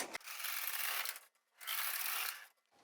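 Carriage of a Brother 260 knitting machine sliding across the needle bed twice, each pass a steady mechanical whir and clatter of about a second, separated by a brief near-silent pause.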